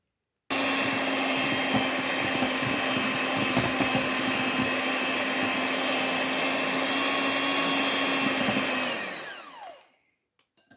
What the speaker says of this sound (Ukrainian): І зараз нам треба яйця, збиваємо міксером до розчинення цукру